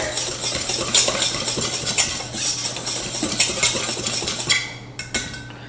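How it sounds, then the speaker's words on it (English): A whisk beating baking powder into dry ingredients in a bowl for camping meal prep, busy rapid clinking and scraping of metal against the bowl, close and continuous, ending in a few sharper taps, no voices. "So now what you're going to do is just go ahead and whisk this together"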